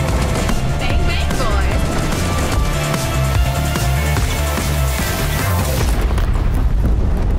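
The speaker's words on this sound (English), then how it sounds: "Incoming airstrike!" Airstrike explosions from the video game Ascendant Infinity roar in a continuous loud barrage of booms and blasts, dense and overlapping, fading somewhat toward the end.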